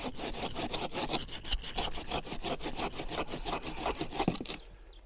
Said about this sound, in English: now I'm fine-tuning the trimming of it with the saw